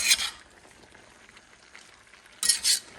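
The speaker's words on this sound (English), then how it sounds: "Going to start mixing the onions and everything together." Onions and ham are stirred together in a pan, with two short bursts of scraping at the start and end and faint, quiet sizzling in between.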